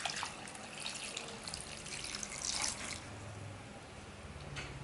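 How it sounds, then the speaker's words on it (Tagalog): Water poured into a cooking pot over sliced ube, a soft trickling and splashing stream that swells briefly midway, then settles to quieter dribbling and drips. "Tapos, halagyan natin ng tubig."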